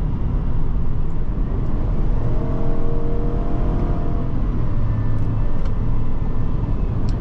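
Cabin of a 2021 Chevrolet Suburban LT accelerating hard, a steady broad engine and road roar with a rising harmonic whine through the middle, loud and continuous with no talking.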